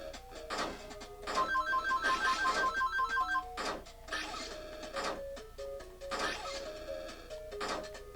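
A ringing phone in the video game Arcade Paradise trills in a rapid rhythmic burst, loud and close, mixed with chiming arcade game music and effects.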